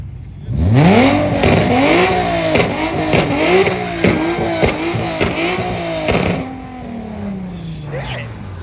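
A loud Mopar car at a Chicago street car meet revs its exhaust hard in a rapid series of rising blips, shooting flames, then settles into a falling idle, with voices talking over it.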